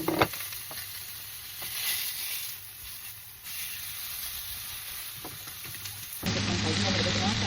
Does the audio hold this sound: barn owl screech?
no